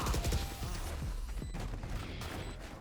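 Rapid bursts of gunfire from a Valorant competitive match, a dense fusillade of sharp shots at moderate loudness with a few separate cracks toward the end, with no talking.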